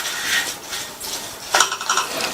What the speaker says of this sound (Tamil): அவலை பக்கத்திலேயே இருந்து இந்த மாதிரி கைவிடாம வறுத்தீங்கன்னா தான் அவளும் கருகிராம இருக்கும்